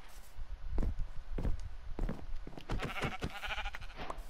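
Sheep bleat several times in a survival video game, wavering cries rising over soft footstep thuds, close and moderately loud, with no talking.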